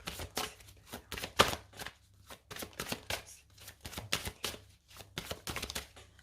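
Oracle cards being shuffled by hand in a quick, uneven run of crisp riffling bursts and soft slaps, close and fairly quiet, with no talking.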